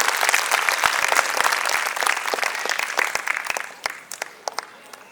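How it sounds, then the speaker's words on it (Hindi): An audience at a school prize distribution ceremony applauds loudly at first, then the clapping thins out into scattered individual claps that trail off toward the end. "तालियों की गड़गड़ाहट बनाए रखिएगा"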